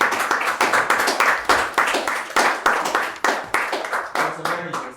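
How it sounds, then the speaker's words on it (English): A debate audience in Ghana claps for its panelists: a brisk run of many close, sharp hand claps at a fairly steady pace, gradually loosening, with a voice speaking over the final moment. "I think we need to clap for our panelists."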